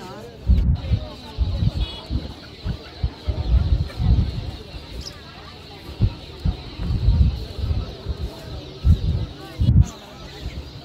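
Country chickens cluck in short repeated bursts at the Pallavaram Friday market, close by amid a busy crowd with people talking throughout.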